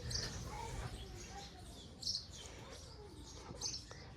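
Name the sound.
house sparrows chirping in a village garden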